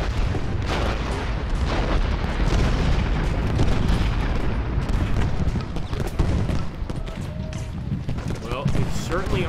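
Cannon artillery fire in the Civil War strategy game Ultimate General Gettysburg: a dense, continuous battle din of overlapping booms and crackling volleys, loud and unbroken throughout.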